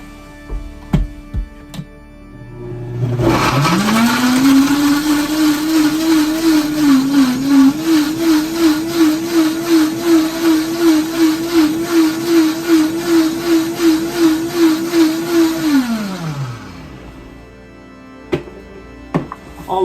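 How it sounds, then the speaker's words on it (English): A loud blender motor whirs up, blending fruit with a little water, runs steadily with a rhythmic churning for about twelve seconds, then winds down and stops. "chop them up and put them in the blender and add a little bit water to it"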